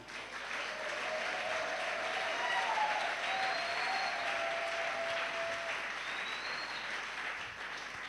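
An audience claps together in steady, sustained applause of moderate loudness that carries on evenly throughout, with no voices standing out.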